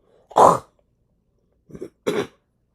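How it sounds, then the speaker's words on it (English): Someone clears their throat up close: one strong rasping burst, then two shorter ones after a pause, with silence around them. "Sorry, I had to clear my throat."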